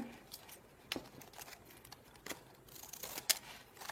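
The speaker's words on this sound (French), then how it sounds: "on va couper les bords en triangle" Scissors cut paper edges into triangles for a Christmas craft decoration, a few faint, quick snips spread across a quiet moment with no speech.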